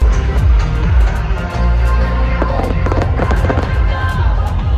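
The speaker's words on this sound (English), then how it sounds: "The whole time they had been hyping up these fireworks at the end of the night, and they did not disappoint either." Fireworks bursting at the end of a basketball game night, loud and continuous with repeated booms and crackles over crowd noise.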